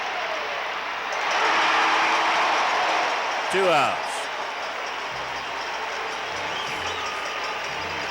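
Stadium crowd roaring steadily at a 1977 ALCS Game 5 baseball game, Yankees at Royals, a broad sustained din swelling in the first seconds, with an announcer talking over it.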